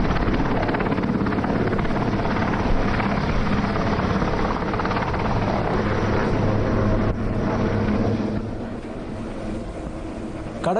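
Naval aircraft and helicopters fly past in an air display over the sea, a steady loud roar of rotors and engines that holds for several seconds before easing slightly toward the end.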